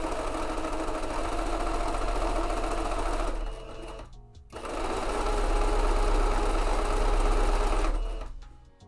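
A domestic sewing machine runs steadily while stitching fabric for garment mock-ups, with a loud continuous whir that pauses briefly around the middle, then resumes and stops near the end.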